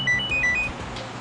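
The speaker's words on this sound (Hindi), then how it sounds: "फोन की घंटी बज रही है" A mobile phone rings inside the luggage compartment of a bus, a few short electronic tone bursts in a quick repeating pattern, muffled and fairly close over low rumbling background noise.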